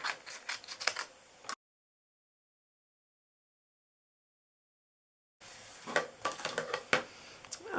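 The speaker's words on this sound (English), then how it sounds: "I need to fussy cut this." Scissors snip paper while fussy cutting a piece for a Christmas cracker, quick close crisp cuts in two bursts separated by a silent gap.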